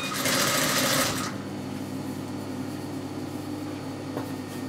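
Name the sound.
sewing machine stitching hem trim onto the gathering seam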